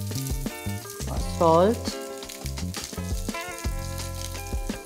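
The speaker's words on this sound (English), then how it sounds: "Potatoes which are boiled, peeled and diced small. I'll add these." Boiled, peeled, small-diced potatoes with chopped curry leaves sizzling in a pan, a steady fry under a speaking voice and background music.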